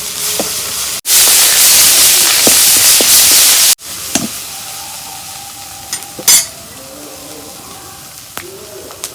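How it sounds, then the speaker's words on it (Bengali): Spices (salt, turmeric, green chili paste) frying in hot oil for a Mirka fish curry: a loud bright hiss bursting in as they hit the oil, then softer sizzling with clinks of a spoon stirring and faint birdsong in the background. "তেলের মধ্যে এখন আমি মশলাগুলো ভাজে নেব।"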